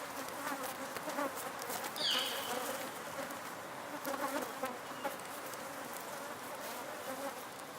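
Bees buzz around flowers close by, with a continuous droning hum and occasional louder passes near the listener, and no one speaks.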